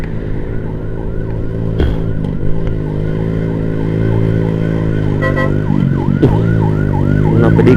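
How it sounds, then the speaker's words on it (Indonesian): An ambulance siren wails close behind a Yamaha Nmax motorbike on a road trip to Bali, its loud rising and falling tones repeating steadily over low engine and road rumble. "Ada ambulans belakang guys"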